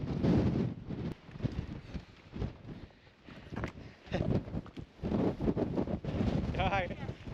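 Gusty wind buffets the microphone on an exposed outing near water, with rough low rumbling surges that rise and fall unevenly over several seconds, and people talk faintly in between.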